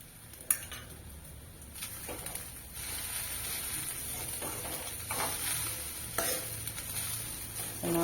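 A spoon stirs butterfly pea flower rice pulao in a pan, giving soft scraping and clinking strokes over a low sizzle, with a few sharper taps from the utensil.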